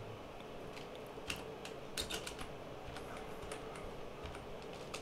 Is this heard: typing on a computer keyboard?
yes